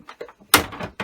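An Xbox One console's plastic faceplate is pried upward, giving a few small creaks and then a sharp close click, followed by another brief snap.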